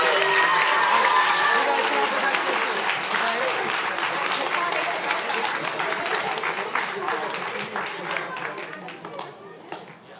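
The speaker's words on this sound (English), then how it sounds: "let's give them all one big more round of applause" A room full of people at a school sports team's end-of-season awards ceremony gives a big round of applause, loud and sustained, gradually thinning toward the end, with some voices mixed in.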